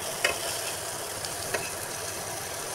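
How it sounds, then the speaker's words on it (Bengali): Pieces of sweet pumpkin frying slowly in a pan, giving a steady, close, even sizzle with a couple of faint clinks of stirring. "আর এই তো আমার মিষ্টি কুমড়াগুলো আস্তে আস্তে ভেজে নিচ্ছি"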